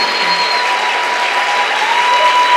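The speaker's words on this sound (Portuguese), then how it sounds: "Aí, aplaude, gente, não cansa não." Sustained applause from a church conference audience greeting an arriving pastor, a thick unbroken roar of many hands clapping at even loudness throughout.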